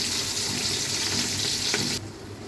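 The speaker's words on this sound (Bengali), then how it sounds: "এখানে আমি পেঁয়াজ কুচি দিয়ে দেবো প্রায় হাফ কাপের মতন।" Chopped onions hiss and sizzle in hot oil for chicken biryani, a close, steady frying roar that drops suddenly to a quieter simmer near the end.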